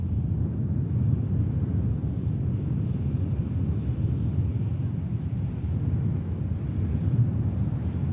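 A Ryanair jet from Dublin touching down at Manchester Airport, heard as a steady, broad low roar from a distance, droning on without pause and with no talk.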